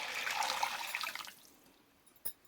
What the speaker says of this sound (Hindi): अब इसमें मैं ये तकरीबन 2 गिलास पानी है वो डालती हूँ